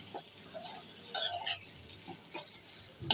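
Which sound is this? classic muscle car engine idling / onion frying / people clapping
onion frying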